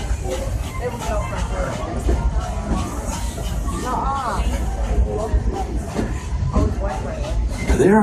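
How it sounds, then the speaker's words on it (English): Steam train of the Disney park railroad loop rolling along its track, a steady rumble and clatter with hiss running throughout, under a recorded announcement and people talking nearby. "There are some who say that this steam train is a little old-fashioned"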